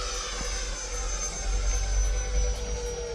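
A radio-controlled jet plane flies at half throttle, its steady turbine whine and broad roar holding close and loud throughout, swelling slightly near the end.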